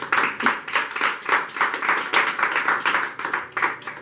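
Congregation clapping steadily in rhythm during a Sunday church worship service, a dense, continuous wash of many hands close by with no talk over it.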